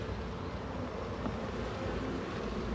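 Dense, steady buzzing of many honey bees working a busy hive full of drones and workers, a continuous close hum with no voices.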